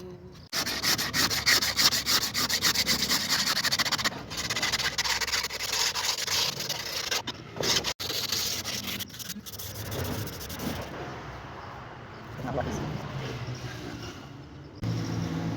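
A wooden tray is hand-sanded with continuous close rubbing strokes that run for the whole span, with brief pauses and a softer, lighter scrub toward the end.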